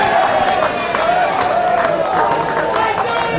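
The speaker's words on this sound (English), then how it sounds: "It feels like all the Maitland supporters are to the left of us. And they're very vocal." Rugby league crowd at the 2018 Newcastle RL elimination final between Maitland Pickers and Kurri Kurri Bulldogs roaring at a penalty, a loud continuous cheer with scattered whistles and shouts, sustained throughout.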